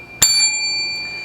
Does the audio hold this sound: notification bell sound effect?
yes